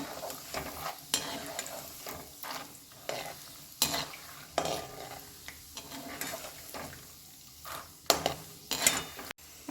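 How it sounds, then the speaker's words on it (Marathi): Peanuts fry in oil over low heat for thin poha chivda, a Diwali snack, with repeated stirring scrapes and clinks of a spoon against the pan over a soft, steady sizzle. "चला आता आपण शेंगादाणे घालून घेऊया हे देखील आपल्याला मंदाच्यावर तळ तळायचे आहेत"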